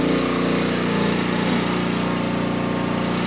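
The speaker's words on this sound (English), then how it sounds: "can't hear too good up here because the generator's running." A generator runs steadily at an off-grid homestead, a loud, constant engine drone close by with no pauses.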